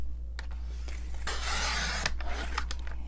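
A paper cutter trims an inch off a piece of card stock, making a steady scraping, rasping slide that builds to a loud swish over about a second, surrounded by softer taps and rubbing, close by over a low hum.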